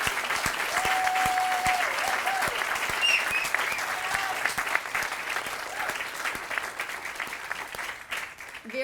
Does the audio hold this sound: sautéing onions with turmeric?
no